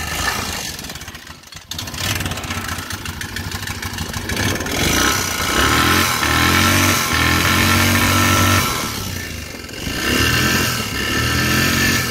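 A small engine runs steadily near the microphone, its uneven mid-pitched idle rising and falling as it struggles to settle, briefly cutting out early before picking back up, with no talking.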